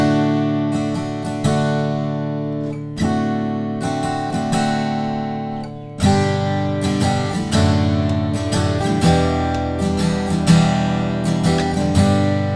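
Guitar strums the outro chords of a song, each chord struck and left ringing in spaced accents, then a busier strummed passage, close and clear with no voice.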